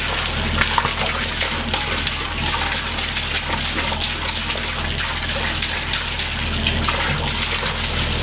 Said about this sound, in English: Put this little return line in here so I can aerate.